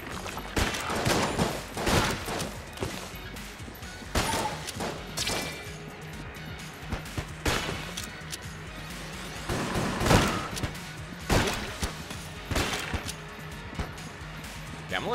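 Rapid bursts of gunfire from a hex gun in the video game Enter the Gungeon, clustered shots and impacts recurring every second or two over game sounds, with a voice speaking at times.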